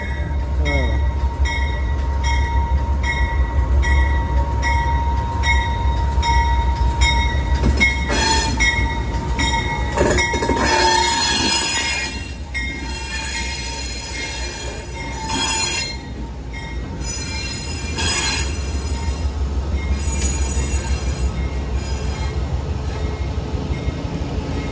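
Big Amtrak passenger cars roll past close by on the Sunset Limited route, with loud wheel squeal, rumbling bogies and clanking joints shifting in pitch, then easing slightly before swelling again.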